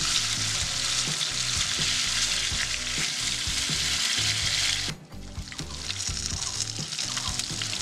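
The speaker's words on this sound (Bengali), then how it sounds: "মাছগুলোকে আমি সুন্দর করে ভেজে নেব" Fish pieces fry in hot oil in a pan while drumstick (sajna data) curry is being made, a loud, steady, dense sizzle that runs continuously, dips briefly and then resumes, with no talking.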